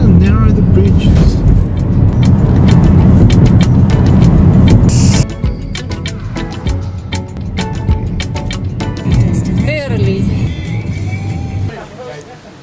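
A car drives along a New Zealand South Island road toward the mountains, its steady low road rumble strongest early on and easing after a few seconds, with voices carrying over it throughout.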